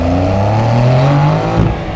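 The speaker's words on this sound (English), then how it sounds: "The exhaust note is fantastic." A Porsche 911 GTS Cabriolet engine and exhaust pull hard under acceleration, the loud, close drone climbing steadily in pitch through the gears and then easing off near the end, with no talking over it.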